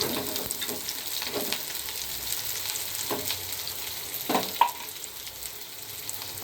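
Onions frying in hot mustard oil in a wok, a steady close sizzle with occasional faint scrapes and one sharp tap near the end.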